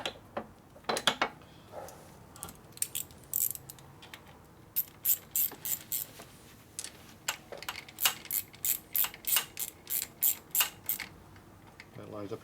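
Ratchet wrench tightening a vehicle shifter mechanism, a series of sharp rhythmic clicking strokes in bursts, close and clear, speeding up toward the end.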